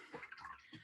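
A paintbrush is swished and rinsed in a water container during a mixed-media painting session, giving a short, close burst of sloshing and splashing under a second, with two brief splashy pulses.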